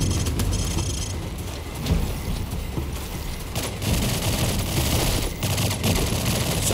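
Distant, continuous volleys of rifle and machine-gun fire from a shooting range in the Call of Duty 4 video game, a dense crackling barrage with a few louder spikes and no talking.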